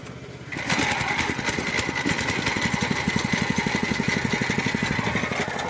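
Small Rex engine on a vibrating potato digger fires up and settles into a steady, rapid putter, close and loud, running on alone without talk.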